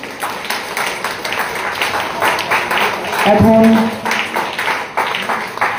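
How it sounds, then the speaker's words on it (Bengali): Audience clapping at a prize-giving ceremony for a children's drawing competition, with a dense patter of hands continuing through the clip while a voice talks over it on a microphone. "জোরে একটু হাততালি।"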